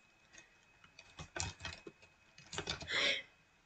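Quiet keystrokes tapped on a computer keyboard, a short scattered run of light clicks followed by a brief burst of quicker taps, faint and close with no speech.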